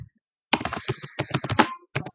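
Close, quick typing on a computer keyboard as a search term is entered, a dense burst of crisp key clicks followed by a brief pause and a few more taps.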